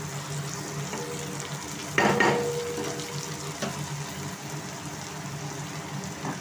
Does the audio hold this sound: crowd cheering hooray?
no